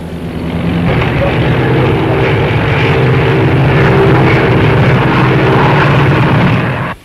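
Engines of a large 1935 army bomber, loaded with two 1,100-pound bombs, roar steadily in flight, a loud, continuous droning hum with a low throbbing pulse that holds from start to finish.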